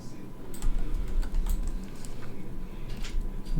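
Someone types on a computer keyboard at close range, a quick run of soft clicking keystrokes under a low background hum, with no talk.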